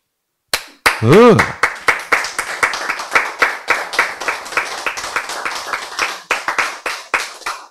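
A lone clap rings out during a health lecture, then an audience breaks into a quick, steady run of clapping that carries on crisp and close through to the end.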